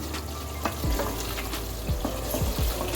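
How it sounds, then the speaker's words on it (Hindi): Chicken for white karahi, with black and white pepper and yoghurt, fries in a pan with a continuous close sizzle and several soft stirring knocks, heard without any voices. "और अब इसको इसके साथ भून लें।"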